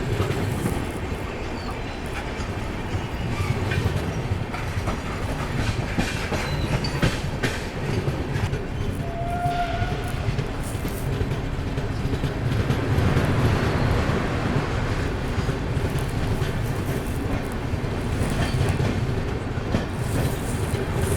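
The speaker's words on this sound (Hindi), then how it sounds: "यहाँ पर अपनी Geetanjali express Manmad junction skip करने जा रही है।" Gitanjali Superfast Express running through Manmad Junction without stopping: a loud, steady rumble of rolling wagons with continuous clickety-clack from the wheels over the rails, sustained for the whole stretch with no voices.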